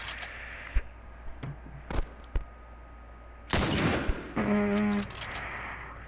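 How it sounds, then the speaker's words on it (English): Scattered gunshots in the video game The Last of Us Remastered, a few sharp isolated cracks, then a louder noisy burst and a brief tonal buzz, fairly faint overall. "Take him out, Joel"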